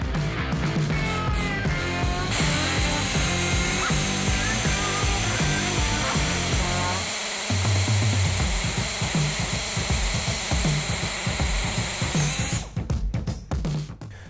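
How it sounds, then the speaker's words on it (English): A power drill bores a centered hole through round metal tube held in a drill bushing jig, a loud steady whine running for about ten seconds with motor start and stop at either end. "you can drill down through the drill bushing, automatically centering your hole in your piece of material"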